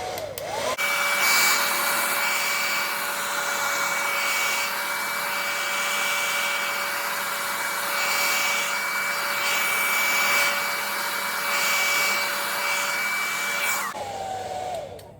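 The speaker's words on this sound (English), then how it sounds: "I'm gonna go in with my dryer. Plug in my dryer." A hair dryer blows steadily for several seconds with a high, constant whine over a rushing airflow, then switches off.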